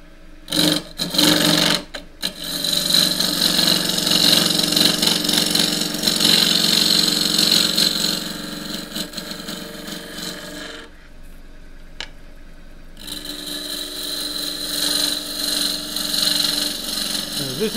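Half-inch spindle gouge cutting a cross-grain wooden box on a lathe, a sustained loud whirring scrape with brief interruptions and a quieter gap midway before cutting resumes.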